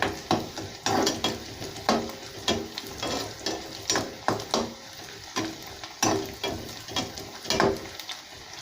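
Onions, curry leaves and green chilies fry in a pan, with a spoon repeatedly scraping and stirring in an even rhythm over soft sizzling, close and moderately loud, no talk.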